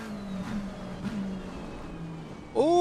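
Race car engines in Assetto Corsa Competizione at the Suzuka race start, a steady engine drone that surges into a loud rising rev near the end.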